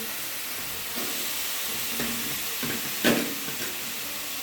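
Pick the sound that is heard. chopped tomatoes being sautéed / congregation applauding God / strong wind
chopped tomatoes being sautéed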